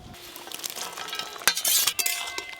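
A spoon scrapes and clinks in a pan as fried small river fish are stirred with tomatoes, with a soft sizzle and louder clatters in the middle.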